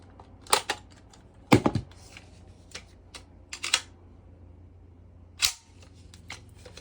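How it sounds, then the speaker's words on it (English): Unloading a double-barrel AK-74 style airsoft electric gun: a series of sharp plastic and metal clicks and clacks, spaced irregularly over quiet background, close and fairly crisp, no talk. "the first step we're going to do is unloading the gun"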